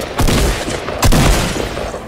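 Gunfire in the video game Fortnite: two loud, close shots land about a second apart, each trailing a brief rumbling echo, with no talking.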